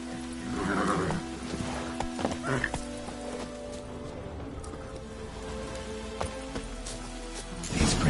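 Roach the horse in The Witcher 3 whinnies and snorts near the start, with clip-clop hoofbeats and rain on the ground under steady ambience, plus a few soft thuds and a stronger burst at the end.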